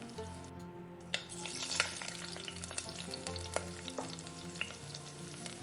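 Batter fries in hot oil for a Christmas recipe, a continuous crackling sizzle with scattered sharp pops and spatters, heard close and alone without any voices.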